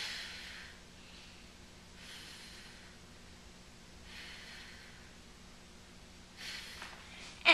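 A woman breathes out slowly during a pregnancy core-strengthening exercise: a few soft, breathy exhalations spaced a couple of seconds apart, close and quiet, with a sharper burst at the end.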